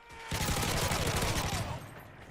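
Rapid burst of video game gunfire in MW3 Survival Mode, a dense rattling volley lasting about a second and a half before fading, loud and close with no talk.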